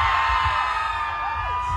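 Fans of a Taiwanese singer scream and cheer steadily during an April 2022 Instagram live music session, a sustained, loud wall of shrieks and whoops with no speech over it.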